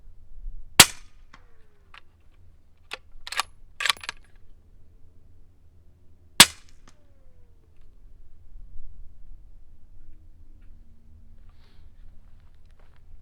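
A 300 Blackout rifle firing 150-grain handloads gives two sharp, fairly quiet reports several seconds apart, with softer clicks and mechanical rattles between them from cycling the action.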